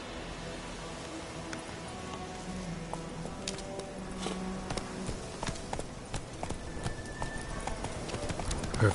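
Geralt's horse Roach trotting in The Witcher 3, a steady clip-clop of hooves fairly close, with creaks and jingles of tack, growing slightly louder toward the end and heard alone.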